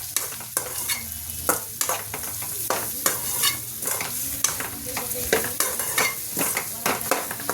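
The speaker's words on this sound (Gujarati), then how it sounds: "થોડુંક હલાવતું રહેવાનું આમાં ત્યાં સુધી પાકી ના થાય ત્યાં સુધી" Spoon stirring turmeric, red chilli and cream in a pan while making Bhavnagari dry potatoes, with repeated scraping strokes over a steady sizzle of frying spices, close and without talk.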